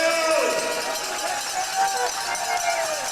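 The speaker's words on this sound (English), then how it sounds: "as the crowd gets loud and proud here in Powassan" Hometown crowd at a junior hockey game in Powassan, Ontario, a broad sustained roar filling the arena, with an announcer talking over it.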